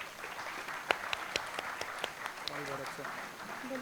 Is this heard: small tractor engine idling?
no